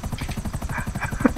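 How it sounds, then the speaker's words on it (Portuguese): A helicopter in the video game GTA 5 gives a steady, close rotor chop with rapid, even blade pulses throughout the short stretch. "tá de helicóptero, rapaz."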